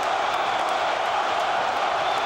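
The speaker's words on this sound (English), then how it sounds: "The crowd is chanting between rounds." A boxing crowd at the Evander Holyfield vs George Foreman fight keeps up a dense, steady roar between rounds, a continuous wash of massed voices with no clear gaps.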